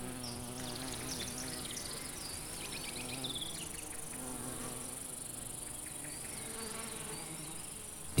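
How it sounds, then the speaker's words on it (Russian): Bumblebees buzz among flowering plants such as woundwort in a meadow, with a continuous droning hum of several insects at varying distances, overlaid by faint birdsong and a steady high insect whine. "повсюду слышится жужжание шмелей"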